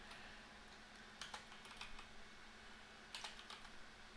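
Keys tapped on a computer keyboard while signing text in Railroads Online, two short bursts of quiet clicking over a steady low hum, with no talk.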